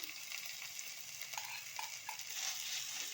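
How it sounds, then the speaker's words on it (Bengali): Crushed ginger and garlic frying with chopped onion in a pan, a soft steady sizzle with a few light stirring scrapes, heard close and alone. "এবারে আদা রসুনটা খুব ভালো করে ভেজে নিতে হবে, যাতে কাঁচা গন্ধটা চলে যায়।"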